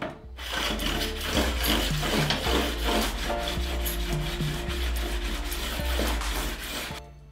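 A wet whetstone rubbed back and forth over the blade of a Honda HHH25D hedge trimmer, a close, steady scraping rasp in repeated strokes, with no voices.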